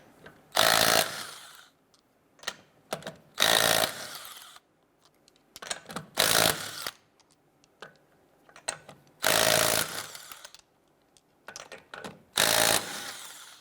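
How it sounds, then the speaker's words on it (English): A power tool with a 19mm socket spins lug nuts off the rear wheel of a 2012-2017 Toyota Camry, in loud whirring bursts of a second or so, repeated about five times with short taps and gaps between. "Using our 19mm socket, let's go ahead and remove our lug nuts."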